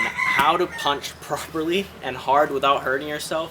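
Roosters crow in the background on a farm, partly buried beneath someone talking steadily up close.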